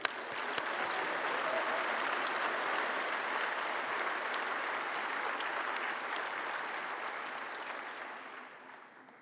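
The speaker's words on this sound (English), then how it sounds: "Can we please get a round of applause?" Sustained applause from a large commencement crowd for the Class of 2024, a dense wash of clapping that holds steady for several seconds before tapering off near the end.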